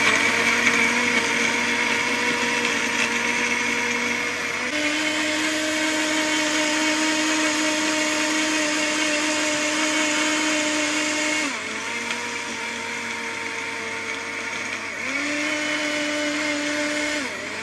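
A blender grinds pecan nuts and dark chocolate into a paste, its steady whining motor hum shifting pitch a few times as the load changes and briefly easing off and restarting across the run, with no talking.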